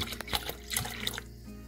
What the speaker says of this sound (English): And now I'm gonna add my Guinness